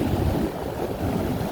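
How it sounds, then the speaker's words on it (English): Ocean surf washing in on the Oregon coast, a close, continuous rushing wash of water with low rumble and wind noise on the microphone, steady and loud throughout. "there comes the ocean"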